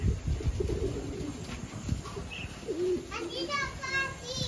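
Pigeons cooing nearby, soft low coos scattered through the moment, partly buried under children's voices and chatter with a few higher chirps near the end.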